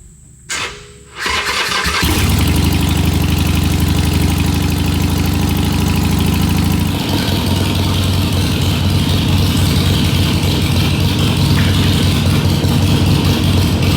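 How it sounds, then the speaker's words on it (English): Harley-Davidson Sportster engine cranks briefly, then catches and settles into a loud, steady idle with a deep, lumpy rumble, close by and alone. "we're going to take it outside and just fire it up, let it run for maybe 4 or 5 minutes"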